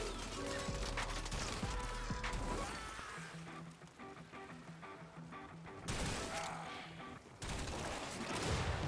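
Enemy gunfire aimed at the player in the video game Warframe: dense, rapid bursts of shots and impacts over game music, continuous and loud with brief breaks in intensity.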